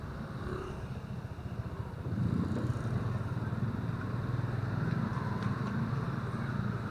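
A Honda RS125 motorcycle with an engine not yet warmed up rides slowly at about 20, its low steady engine drone and road rumble growing slightly louder after a couple of seconds and holding on, with no talk.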